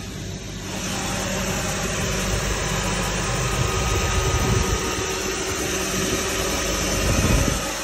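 A 2005 Honda Civic engine idles steadily after starting, a continuous close low hum and rumble holding an even level with no talking.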